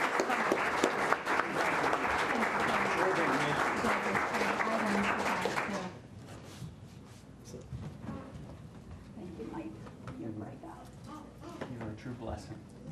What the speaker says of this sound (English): And let's give her a round of applause,